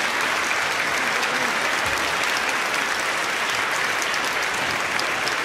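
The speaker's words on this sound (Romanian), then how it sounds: "Și vă rog să-i aplaudați și pe cei tineri," Concert audience applauding the musicians of a symphony orchestra, a dense, steady wash of many hands clapping at full strength throughout, close and continuous with no pauses.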